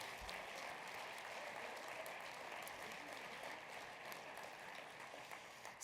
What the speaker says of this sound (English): Could we give all of our veterans in the room a round of applause, please?